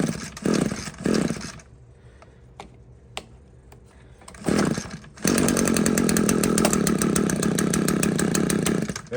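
A small gas engine that had sat on a bench for a year is pulled over a few times with sputtering bursts and gaps, then fires and keeps running at a loud, steady, buzzing high rev.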